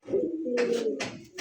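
Pigeons coo in a short, close, low rolling call, one steady throaty coo running about a second before a brief second burst, clear and alone at a pigeon seller's.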